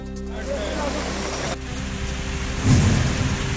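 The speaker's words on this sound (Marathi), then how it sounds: "मुंबईतील दादरमध्ये सकाळी रिमझिम पाऊस" Light morning drizzle falls in Dadar, Mumbai, as a steady broadband wash of rain with a low rumble and a slightly louder burst near the end.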